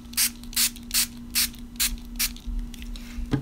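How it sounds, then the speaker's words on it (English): A spray bottle spritzes water onto distress oxide ink on a card, with six quick, evenly spaced pumps, each a short crisp hiss, followed by a soft click and a low, steady hum. "So I'm going to put a little bit of my oxide on, and I'm going to spritz it."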